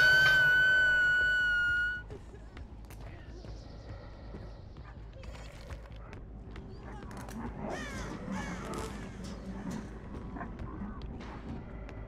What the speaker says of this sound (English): That bird just like got disturbed.